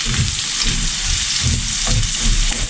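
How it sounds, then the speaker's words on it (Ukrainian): Bacon and onion sizzle steadily in a frying pan, a dense, loud, continuous crackle with soft low bumps of stirring at a regular pace, no voices. "Тепер додаємо цибульку. Та будемо підсмажувати до золотавого кольору."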